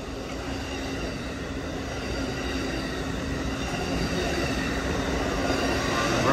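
An Amtrak Coast Starlight passenger train hauled by a P42 locomotive rolls steadily past nearby at the Oakland Coliseum station, a loud continuous rumble of wheels and rushing air that slowly builds, with no horn.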